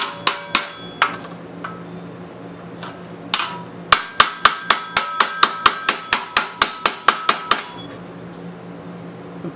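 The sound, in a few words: hammering out a dent in a metal Harley Servicar utility box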